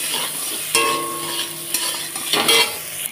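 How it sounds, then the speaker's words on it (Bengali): Salted soybean chunks fry in oil with a steady sizzle, broken by several sharp scrapes and clinks as a spoon stirs them in the pan. The sound is close and clear, with no talking. "একটু তেলে সোয়াবিনটাকেও ভেজে নিচ্ছি লাল করে"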